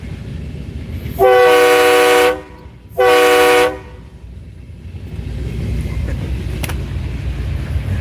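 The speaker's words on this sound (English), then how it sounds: "But yes, that was my train horn." Two long, loud blasts of a train horn, the second shorter, rich and chord-like, followed by low rumbling background noise.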